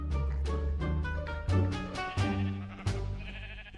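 Sheep in Minecraft bleat repeatedly in loud, wavering calls close by. Several overlapping cries rise and fall, with sharp onsets in quick succession.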